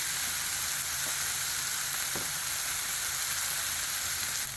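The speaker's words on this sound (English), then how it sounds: "All right, let's let these cutlets get sizzling." Chicken cutlets sizzle steadily on a hot Blackstone griddle, a continuous bright hiss with a couple of faint clicks and no talking.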